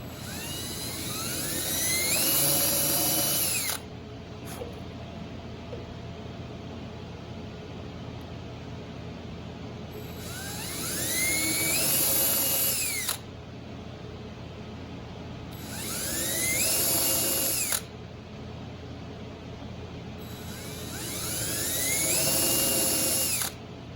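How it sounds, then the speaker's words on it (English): A power drill whines in four bursts separated by short pauses, drilling into a wooden dowel for a ukulele fretboard, its pitch rising as each run spins up, loud and close. "Going drilling down until I bottom out that wooden dowel."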